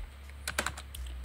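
A search gets typed on a computer keyboard, a short run of quiet, close key clicks in an uneven burst over a low steady hum.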